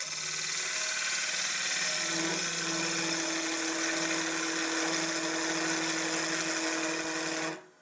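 A lathe cutting a calabash bowl gives off a steady, loud, high-pitched whine with harmonic chatter that persists without a break, then drops off at the very end.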